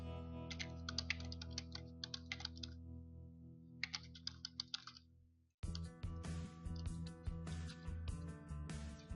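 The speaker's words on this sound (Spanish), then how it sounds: "escribimos aquí lo que queremos pedir" Typing on a computer keyboard while entering a query in Microsoft Access, with bursts of close, rapid key clicks separated by pauses over a steady background hum.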